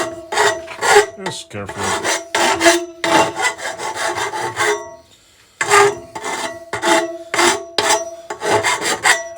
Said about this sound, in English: Get yourself a bastard file and just